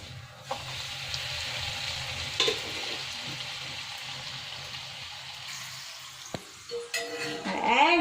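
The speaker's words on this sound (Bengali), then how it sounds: "পাঁপড় ভাজা" Papad fries in hot oil on a gas stove as part of a festive thali, with a continuous, even sizzle throughout and a few utensil knocks and clatters toward the end.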